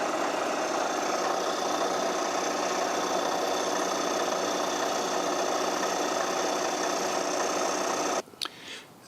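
A machine cutter taking a 4 mm deep cut while machining a part for a Webster engine, with a steady, even buzzing grind that stops abruptly near the end, followed by a brief clunk.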